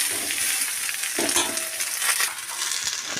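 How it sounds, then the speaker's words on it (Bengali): Kohlrabi, eggplant and onion stir-fried in a pan, a continuous bright sizzle broken by scraping stirs and a few clinking knocks of the spatula, close and with no talking. "আবারও এই সবজিগুলোকে ভালো করে নাড়াচাড়া করে নিয়ে"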